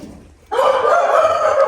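A rooster, a bird just bred at a farm of Korean breeds in Namangan, gives one loud, close crow that starts abruptly after a quiet moment and holds steady to the end.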